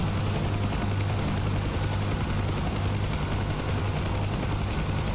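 Helicopter in a VR flight simulator game, a loud, steady rotor and engine drone with a deep low throb that holds constant throughout.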